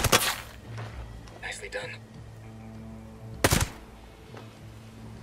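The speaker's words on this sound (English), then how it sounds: "Someone out there is shooting." Sharp gunfire bursts in the tactical shooter Ghost Recon Breakpoint, one loud crack near the start and another around midway, over a low droning game ambience, with a voice briefly speaking.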